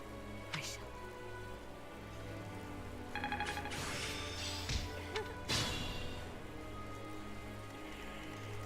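Soft, steady rain patters in the Fire Emblem Three Houses video game, a faint constant hiss under occasional game sound effects and chimes.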